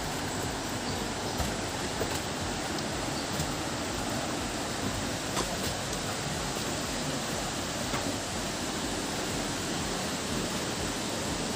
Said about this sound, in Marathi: धबधब्याचा आवाज पण खूप मोठा येतोय